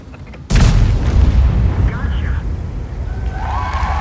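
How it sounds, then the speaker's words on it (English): A Ho-Ri 3 tank destroyer fires a high-explosive round in a tank combat game: one sudden, loud cannon boom, then a long, rumbling low tail and faint battle noise. "See, I shoot the HE round."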